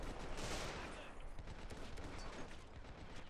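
Dense, continuous gunfire, probably a machine gun, rattles without pause through a World War I battle in Men of War: Assault Squad 2, loud and close with overlapping bursts.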